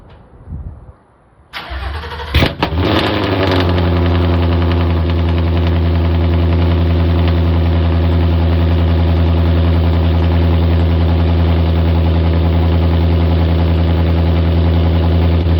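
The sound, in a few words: race car cold start with dumps and headers, idling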